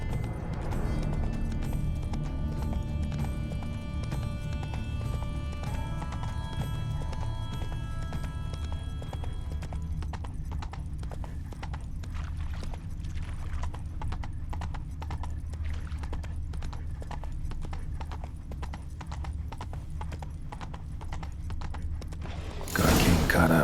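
Steady clip-clop of horse hooves trots along in The Witcher 3, rhythmic and continuous under a low ambient bed, with a sharp louder burst right at the end.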